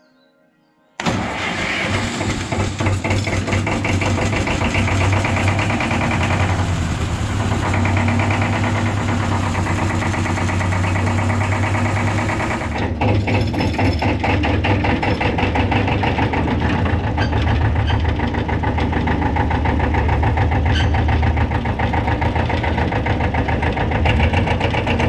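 A mass-cooled diesel tractor engine, glow-plug preheated, cranks and starts abruptly, then settles into a loud, steady rumbling idle with a rhythmic knock, slightly changing pitch midway.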